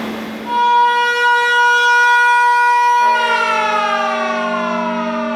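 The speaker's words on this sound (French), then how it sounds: "la sirène de la Manu résonne pour la dernière fois" A loud factory siren winds up to a sustained wailing tone, holds steady, then begins to slowly drop in pitch.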